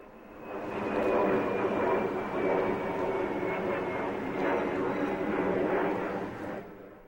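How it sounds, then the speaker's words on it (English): A Spirit Airlines passenger jet passes overhead, its engine roar swelling, holding steady for several seconds with a thin whining tone, then fading away. "Here's a Spirit Airlines plane."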